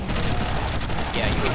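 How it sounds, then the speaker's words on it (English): Custom assault rifle fire rattles in Halo 3, a dense, continuous burst of rapid shots with loud crackling impacts, heard close and alone. "You'll probably hear the firing sounds as soon as we get in game."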